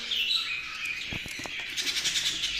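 Pet birds in a breeding room chirp and tweet in high, steady overlapping calls, with a couple of low thumps from cage movement nearby.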